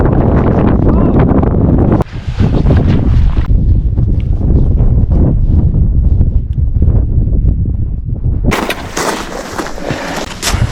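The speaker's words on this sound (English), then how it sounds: "it's so windy!" Strong gusting wind near a 2,100 m summit in the Slovenian Alps buffets the microphone, a loud continuous roar that surges and drops throughout.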